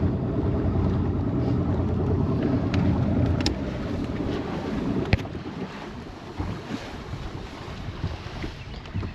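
Wind buffeting the microphone on a fishing boat on fresh water, a loud continuous low rumbling roar with gusts, plus a few faint knocks, no voices.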